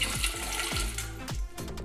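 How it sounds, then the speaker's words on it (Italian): Water poured into a pot for chicory coffee, with two or three splashy bursts of pouring close by and no talk. "Allora, aggiungo 2 tazze d'acqua"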